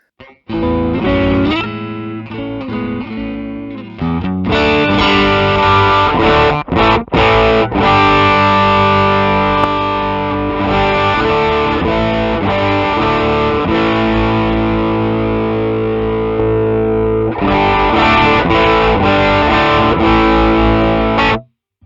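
Heavily distorted electric guitar chords with a thick, saturated overdrive tone, loud and sustained, with brief pauses and restarts between phrases.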